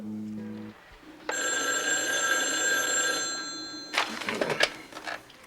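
A telephone bell rings loudly and close for a few seconds, a sustained metallic trill that breaks off into a brief clattering handling sound.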